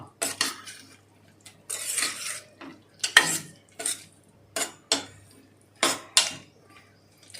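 A metal spoon scrapes and clanks against a cooking pot of drumstick curry made with milk, tomato and onion, in about a dozen short, separate strokes at close range with quiet pauses between them and no talk.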